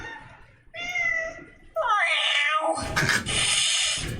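A cat meows in a drawn-out, whiny series of calls, close and loud, with people talking over and between the cries.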